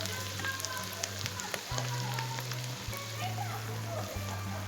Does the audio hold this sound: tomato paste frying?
yes